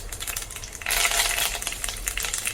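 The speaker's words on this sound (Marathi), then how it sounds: "पाव चमचा मोहरी आणि पाव चमचा जिरे आपण तेलामध्ये टाकायचे आहेत" Mustard seeds and cumin hit hot oil for a capsicum and tomato bhaji. A bright, crackling sizzle swells suddenly and keeps spitting with small pops close by, and no one speaks.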